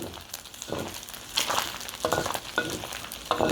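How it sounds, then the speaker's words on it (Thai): Pork rinds frying in oil over medium heat, a continuous close sizzle with crackling bursts and occasional stirring scrapes, no voices. "ก็เจียวไปเรื่อย ๆ น้ำมันก็ เริ่มออกมาเยอะแล้วค่ะ"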